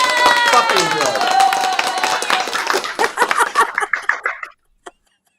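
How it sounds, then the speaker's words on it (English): Clapping sound effect, a dense run of hand claps that thins into separate claps and stops abruptly, heard over music-like tonal sound. "I like that clap."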